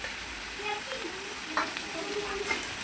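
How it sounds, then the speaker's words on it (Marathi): Curry leaves sizzle in hot oil in a home kitchen as puri bhaji is cooked, with cauliflower already in the pan. A steady, fairly quiet hiss runs throughout, with a few brief stirring clinks and scrapes and no talking. "आता आपण कढीपत्ता टाकून घेऊयात"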